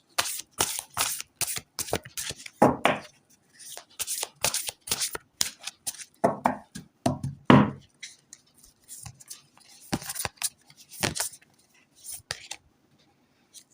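Tarot cards are shuffled in quick, crisp riffles and soft slides, close and fairly quiet, coming in irregular bursts with pauses between them.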